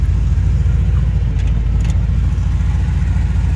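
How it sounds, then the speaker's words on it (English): A 1948 Chevrolet Fleetmaster street rod with a small block Chevrolet engine and three-speed automatic runs close by, giving a steady, loud low rumble throughout with no talking. "Got a small block Chevrolet engine in it with a three-speed automatic transmission."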